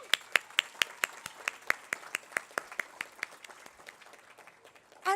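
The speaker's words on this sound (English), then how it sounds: "Let's make sure to give them another round of applause." Sparse, distinct handclaps at a gala applauding scholarship recipients, a steady rhythm of single claps that gradually fades, heard fairly close with a quiet background.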